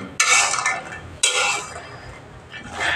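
Dry fruits stirred and lightly fried in ghee in a pan, with two loud scraping stirs of the utensil against the pan and a third starting near the end, each sweep a broad rustling clatter with no talk.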